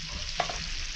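Jackfruit bulbs fry for chips in hot oil, giving a steady broadband sizzle throughout, with one brief sharper clink partway through and no talk.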